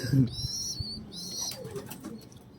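Pet pigeons coo softly while wings flap in short bursts near the birds, mixed with bright chirpy calls and a low murmur of activity around them.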